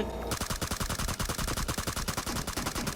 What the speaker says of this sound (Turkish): Her yere sıkıyorum vallahi ben